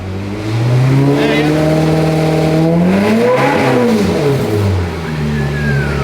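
A rebuilt ex-rental Ferrari moves forward and accelerates, its engine rising in pitch through a loud, close rev that dips and climbs again, with faint voices in the background.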